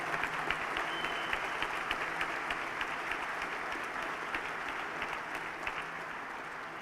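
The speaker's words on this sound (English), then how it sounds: "round of applause?" Dinner guests at an Irish fund event give a sustained round of applause, a steady wash of many clapping hands at moderate distance, fairly quiet and unbroken throughout.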